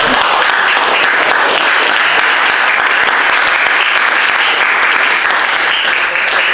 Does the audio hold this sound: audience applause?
yes